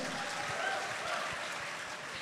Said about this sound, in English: Let's give the former president a round of applause.